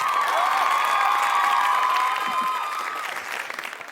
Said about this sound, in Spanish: demos un fuerte aplauso a nuestras invitadas